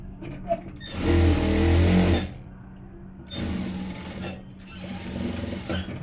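A sewing machine stitches a blouse in short, fairly loud bursts, with a longer run followed by softer stop-start stitching.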